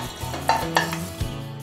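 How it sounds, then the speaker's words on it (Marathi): Whole spices including kasuri methi, bay leaves, cinnamon, fennel and cumin being dry roasted without oil in a kadhai, with close scraping and stirring strokes and faint crackle, no voices. "ह्या सगळा मसाला आपण थोडंसं कढईत भाजून घेऊया, पण ह्याच्यात बिना तेल घालून भाजून घेऊयात"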